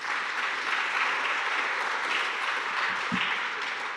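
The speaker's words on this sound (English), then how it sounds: "let's give another round of applause" Audience applause fills the room after a lecture, a steady, dense wash of clapping from many hands that holds at an even level throughout, with no talking over it.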